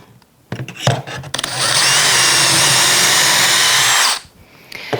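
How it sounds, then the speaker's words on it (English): A power drill fitted with a stop collar whirs loudly and steadily for about two and a half seconds boring a shelf pin hole, after a few short clicks and handling knocks, then stops abruptly. "add the stop collar onto my drill bit and make the first shelf pin hole"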